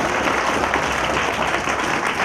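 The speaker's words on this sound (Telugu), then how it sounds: "చప్పట్లు కొట్టండి, పాట అయిపోయింది" Audience applause at a cultural training event following a song, a dense steady wash of clapping sustained throughout at moderate loudness with no clear voices.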